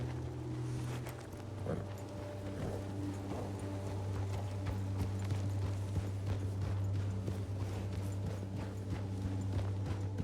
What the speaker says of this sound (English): I'm hearing horses, man, but I'm not seeing any.